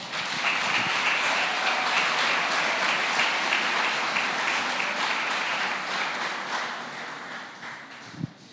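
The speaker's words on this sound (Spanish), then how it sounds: "Dale un aplauso al Señor." A church congregation applauding during a sermon, a dense, loud wash of many hands clapping that fills the room and slowly fades toward the end.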